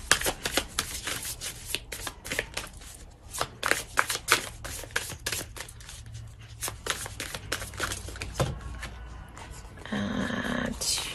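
Tarot cards are shuffled close by in rapid riffling bursts of crisp snapping flutters, with pauses between bursts and a longer, denser shuffle near the end, and a low rumble beneath.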